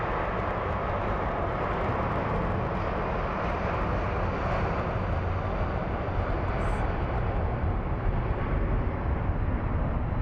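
A jet airliner's engines roar steadily and loudly at Phoenix Sky Harbor International Airport, a dense broadband rush that holds constant for about ten seconds without letting up.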